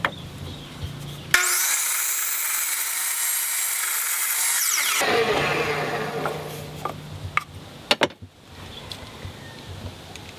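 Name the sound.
sawing, cutting the top of the bootube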